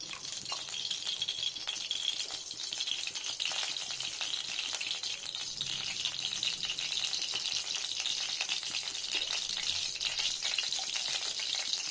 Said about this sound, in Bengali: এখানে দিয়ে নেবো সর্ষের তেল।